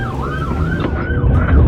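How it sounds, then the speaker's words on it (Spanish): Emergency sirens wail in looping up-and-down sweeps during a police chase, close and loud over rumbling vehicle noise. "Las sirenas aullaban, los neumáticos chillaban, pero Davis seguía adelante"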